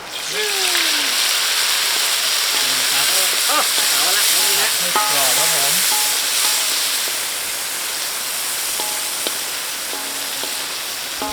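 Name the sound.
insects frying in hot oil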